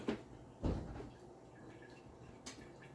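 A drawer slides and bumps at the start, followed by a louder thud as it shuts, with quieter rummaging and a soft knock afterward.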